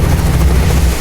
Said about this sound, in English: he wants to get in the chopper and see a bird's eye view of 12th century Oakham